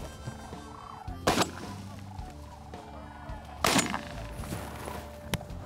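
Sandhill cranes calling in the field during a crane hunt, rolling bird calls scattered throughout with two loud sharp gunshot-like bangs and a third shorter one, no talk.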